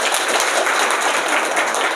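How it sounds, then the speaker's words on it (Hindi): A group of students at a coaching centre claps for a top-ranked student, a brisk, continuous patter of many hands, close and steady for two seconds without speech. "पहले ताली बजाओ यार।"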